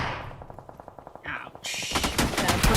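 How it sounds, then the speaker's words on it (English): Rapid automatic gunfire from a PUBG Mobile esports match, a dense stuttering burst of shots that builds into a loud, continuous fusillade with heavier blasts toward the end. "That's a lot of gunshots."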